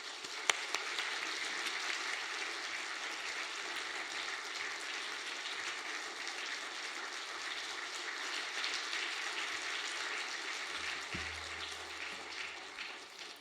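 A church congregation applauds to welcome a speaker during an evening worship service, with sustained, even, somewhat distant clapping that fills the room throughout.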